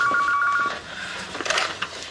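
A telephone rings indoors in a home, a short bright repeated electronic trill in quick pulses at moderate volume, stopping before the call is answered.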